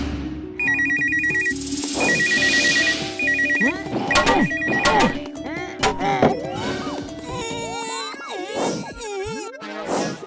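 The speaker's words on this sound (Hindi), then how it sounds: "चाचू, आप दूरदृष्टि गैजेट से तुरंत इस नंबर पर फोन लगाइए।" An electronic telephone ringtone trills in repeated bursts in a Hindi cartoon, mixed with bouncy cartoon whacks, swooshes and springy sound effects throughout.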